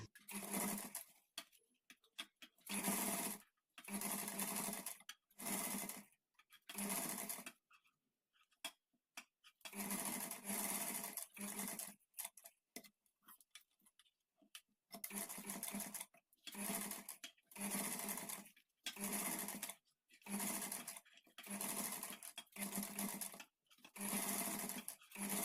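A sewing machine runs in repeated bursts of fast, even stitching, sewing piping onto the back neck of a blouse, with short quiet pauses between runs and no talking.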